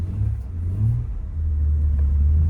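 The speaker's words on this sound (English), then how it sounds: "I'll do a first gear pull." A 2003 Acura CL with a six-speed manual pulls hard in first gear, its engine note rising steadily as it revs, heard loud and close from inside the car.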